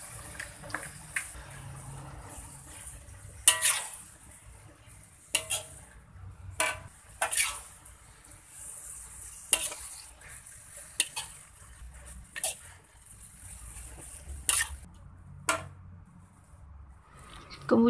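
Soaked rice vermicelli being stir-fried in a pan for soy-sauce bee hoon goreng: repeated sharp clinks and scrapes of a utensil against the pan at irregular intervals over a low background hiss, close and moderately loud.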